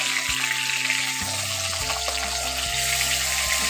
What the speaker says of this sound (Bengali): এখন মাছগুলোর এক পাশ ভাজা হয়ে গেছে আমি এখন মাছগুলোকে উলট পালট করে দিচ্ছি